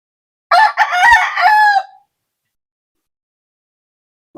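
A Boston Brownhead gamefowl rooster crows once, loud and close, a single drawn-out call of about a second and a half, followed by silence and a brief faint sound at the very end.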